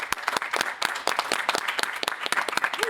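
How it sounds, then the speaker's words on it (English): An event audience applauds the volunteers: crisp individual handclaps blend into a lively, sustained round of applause at moderate volume, unbroken by speech. "And another round of applause for all of the volunteers that helped to make this happen."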